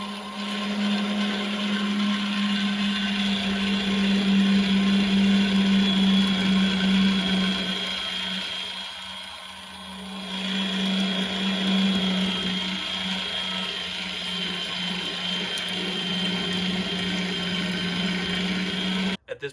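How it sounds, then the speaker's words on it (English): An electric meat grinder works through venison for sausage, giving a steady, loud motor whine and grinding drone that holds throughout, dipping briefly in the middle before resuming. "And we're gonna put our grinder back over in place."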